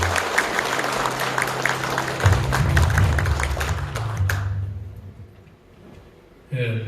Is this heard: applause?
yes